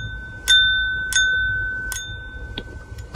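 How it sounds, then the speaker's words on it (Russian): Moser lead crystal bowl, blown colored glass with painted decoration, tapped with a small stick; four clear bell-like rings in an even sequence, each sustaining a bright pure tone that slowly decays in a quiet room. "это стекло с примесью свинца, и если по нему постучать палочкой"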